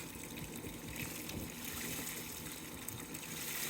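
Muddy water is poured off freshly caught wild crawfish beside a Louisiana roadside ditch, a steady close splashing gush that continues without a break and with no talk.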